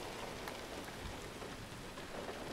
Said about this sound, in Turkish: Rüzgarla karışık yağıyor, fena yağıyor.